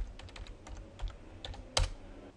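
Typing on a computer keyboard while entering a search into a browser's search box, a quiet scatter of irregular key clicks with one sharper, louder tap near the end.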